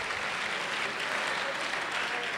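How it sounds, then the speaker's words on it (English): An audience at the Hack the North hackathon applauds, a steady wash of many hands clapping that stays even and moderately loud, with no distinct voices on top. "Everyone clap it up, congratulations."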